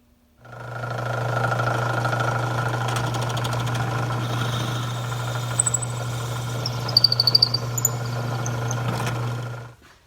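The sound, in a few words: wood lathe boring a hole through a wood blank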